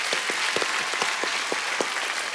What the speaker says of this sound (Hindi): तालियां बनती हैं भाई आपके लिए